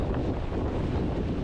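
Strong wind buffets the microphone in a constant roar at a cold beach in the Netherlands, with surf blending into the rush.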